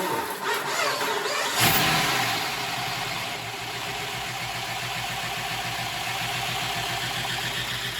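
A junkyard Hemi V8 engine swapped into a 2005 Jeep Grand Cherokee cranks and catches, then settles into a loud, steady, slightly lopey idle up close.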